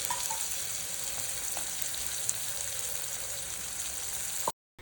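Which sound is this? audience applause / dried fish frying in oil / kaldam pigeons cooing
dried fish frying in oil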